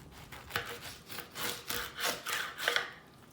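A knife saws through a pineapple with about six rasping back-and-forth strokes, close and fairly quiet, with no talking.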